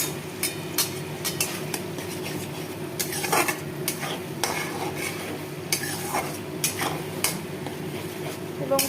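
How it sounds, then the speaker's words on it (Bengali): Tomato and cashew paste for a paneer curry is stirred in a pan: rhythmic scrapes and clinks of a spoon against metal over a soft, low sizzle, close and steady. "এইবার এটা আমি একটু ভালো করে নাড়িয়ে নেব পুরো পেস্টটা"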